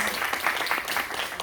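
A small group at a school board of education meeting claps steadily for a second or so, a moderately loud, dense patter with a few voices underneath.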